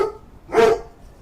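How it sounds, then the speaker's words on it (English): A single close, loud dog bark, short and sharp, standing alone with faint background noise before and after. "my dog loves barking at ghosts"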